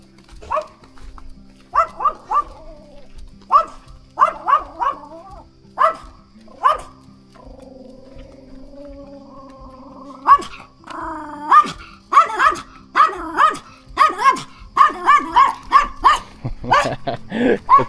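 Small dogs on a street in Croatia bark in short bursts, sparse at first and then rapid and overlapping, with a whine or growl in between and someone speaking briefly.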